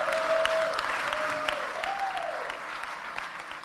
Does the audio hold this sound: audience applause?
yes